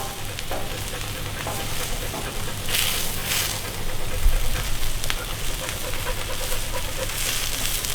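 Shrimp fry on a Cuisinart 360 griddle with a loud, steady, close sizzle, punctuated by occasional scraping and turning noises throughout.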